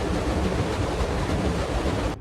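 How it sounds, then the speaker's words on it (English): A loud water wheel in the video game Tower of Time churns as a steady, dense rushing wash of water, constant and close for about two seconds before cutting off abruptly. "a really loud water wheel"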